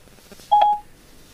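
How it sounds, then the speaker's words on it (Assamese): A single short touch-tone dial beep sounds clearly in a quiet car cabin as an iPhone places a Siri call through Apple CarPlay in an Alto. "calling Dimpu Jio mobile"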